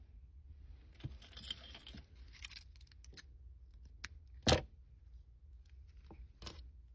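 Scissors snip crochet yarn in a quiet setting: a few faint rustles and light clicks, then one sharp close cut midway.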